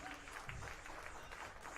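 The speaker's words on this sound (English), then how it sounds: "You can hear the appreciation from the many St. Michael fans" Baseball fans at an American Legion regional tournament game applaud and cheer for the pitcher, a faint, distant crowd clapping steadily throughout.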